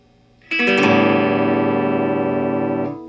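An electric guitar with its bridge pickup wired out of phase rings out in a single strummed chord, thin and hollow in tone, sustaining loudly for a few seconds alone before it cuts off.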